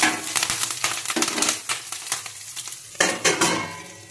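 Cumin, garlic-chili paste and curry leaves sizzle in a pan for a potato and cauliflower curry, with a spatula scraping and stirring in uneven bursts and a louder clatter near the end.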